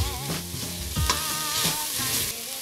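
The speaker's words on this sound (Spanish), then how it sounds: "removemos" Onion, carrot and ginger frying in a pan while being stirred, a loud close sizzle with scraping strokes of a utensil and no talking.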